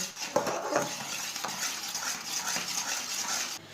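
Jaggery cooking in a pan while being stirred, quiet scraping of a spoon against the pan with a few light clinks, soft and close with a low background hiss.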